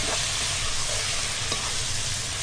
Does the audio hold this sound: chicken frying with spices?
yes